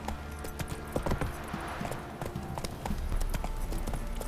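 Horse hooves clip-clopping at a steady walking rhythm in The Witcher 3 video game, fairly quiet and close, with a faint voice briefly in the background.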